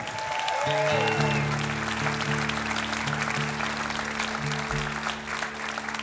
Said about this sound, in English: a big round of applause, if you would, for my wife, Sarah Larson, on the fiddle